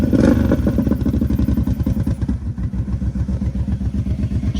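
A Kawasaki KFX700 ATV engine runs steadily after a choke start, its rapid, even thumping pulse close and loud. The rough idle chugs on with a slight clatter and no voices over it.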